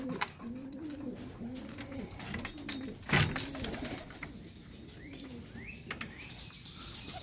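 Young pigeons in a cage coo softly and repeatedly nearby, with a few faint chirps and a brief louder rustle partway through.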